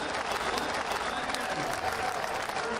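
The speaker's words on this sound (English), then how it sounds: "The crowd relieving themselves after seeing the video of Robert Height climbing out on the big screen." Dense crowd applause and cheering filling the grandstands at an NHRA drag race, steady and broad throughout with a faint voice mixed in.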